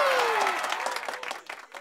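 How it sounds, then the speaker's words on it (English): Applause for Dora in a cartoon after her gymnastics ribbon dance: a burst of clapping that starts full and gradually thins and fades over under two seconds, with a voice briefly heard at the start. "So, let's all clap for Dora!"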